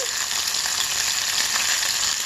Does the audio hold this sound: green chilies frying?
yes